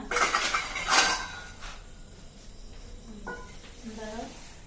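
Bowls and spoons clink in a home kitchen, a few bright ceramic and metal knocks near the start followed by softer scraping, while a voice and an adult talk in the background.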